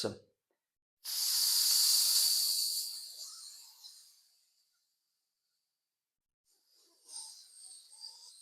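A long, steady breathy exhale during a beginner morning yoga routine hisses for about three seconds and fades out, followed by silence and a few faint rustles.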